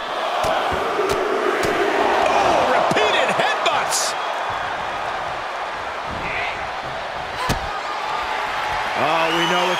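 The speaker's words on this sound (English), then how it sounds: "you hear the crowd letting them know Rhea and Liv are truly delivering something" Arena crowd noise from WWE 2K24, Rhea Ripley versus Liv Morgan, a steady loud roar with swells and sharp slam-like impacts, under game sound effects and commentary.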